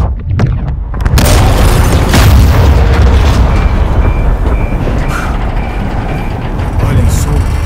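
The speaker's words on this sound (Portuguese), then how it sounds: "Todas as estações, se preparem para a explosão." A huge explosion in the video game Call of Duty Modern Warfare 2 opens with a sharp blast, then swells into a long, loud rumbling roar. Faint beeping tones sound under the sustained low boom.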